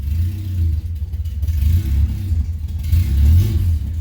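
A Honda Civic EG hatch with a swapped B18C1 engine idles steadily after starting, running rich, a low continuous rumble close by with slight rises and falls and no talk.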